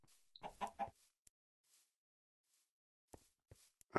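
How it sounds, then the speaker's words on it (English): A Minecraft chicken clucks in a quick burst of several close, distinct clucks, then goes quiet before a few more short clucks near the end. "Chicken."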